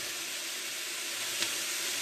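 Stir-fry vegetables with pesto and rice sizzle steadily in a hot frying pan, a close, even hiss of oil with one faint pop, no talking.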